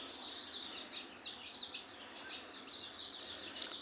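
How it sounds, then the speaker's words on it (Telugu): A native country hen clucks and calls while feeding her chicks, including a black chick, with soft repeated chirps and clucks over a steady background hiss at low level. "ఇప్పుడు నల్లపిల్లకు కూడా పెడుతూనే ఉందండి మేత పిలిచి"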